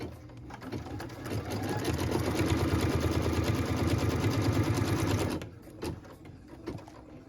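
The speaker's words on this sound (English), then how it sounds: "What we're stitching now is the tack down line for piece number 9." A sewing machine runs a quilt tack-down line in one steady burst of rapid stitching for about five seconds, close and clear, then stops, leaving a few faint clicks.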